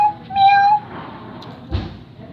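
A young cat gives a couple of short, clear meows close by, followed by faint rustling and a soft thump in an otherwise quiet room.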